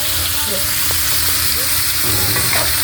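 Native chicken adobo frying in a pan while being stirred: a loud, continuous close sizzle and hiss with occasional scraping of the spoon, and voices faintly in the background.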